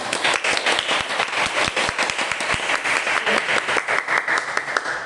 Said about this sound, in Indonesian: tepuk tangan untuk Bapak